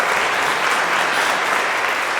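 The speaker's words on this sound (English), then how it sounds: "can we applaud this person in front?" A crowd at a community poetry celebration bursts into dense, sustained applause, loud and close, with no gaps.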